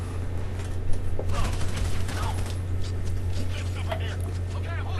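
Enemy gunfire in the Army of Two aircraft carrier level, rapid bursts of shots crackling over a steady low engine drone, with someone talking over it.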